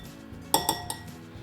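A spoon stirs active dry yeast in a bowl, a few quick clinking taps against the dish, close and fairly light, with no talking.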